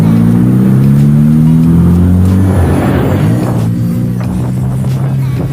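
A Honda Click scooter engine with a titanium JVT CVT set revs loudly and steadily up close, a rising drone with a thin CVT whine layered on top, easing slightly toward the end.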